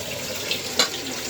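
Tap water runs into a kitchen sink while dishes are rinsed clean, a steady soft wash with a brief splash near the end and no talking.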